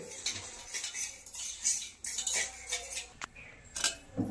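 Homemade ragi java being stirred in a pot, repeated metal spoon scraping and clinking against the pot in an uneven rhythm, close and fairly quiet, no talking.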